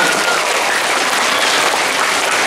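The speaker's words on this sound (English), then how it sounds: "let's give them another big round of applause." A loud, dense wall of applause fills a school holiday assembly, steady and sustained from start to finish with no pause.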